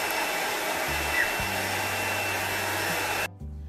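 A hair dryer blows a steady, loud whooshing stream while drying paint on painted clothing, running continuously and cutting off near the end.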